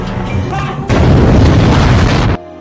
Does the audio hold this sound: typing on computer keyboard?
no